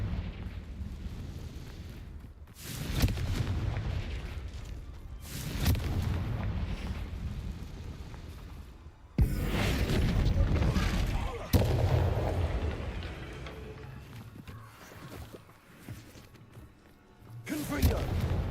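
Repeated Confringo fire-blast spells explode in Hogwarts Legacy, several heavy booming blasts arriving every few seconds, each followed by a rumbling decay, loud and close throughout.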